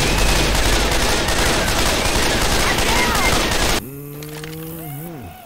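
Rapid, loud gunfire rattles nonstop in Left 4 Dead 2 on the Dark Carnival campaign, dense bursts that cut off abruptly and give way to a quieter sustained tonal sound.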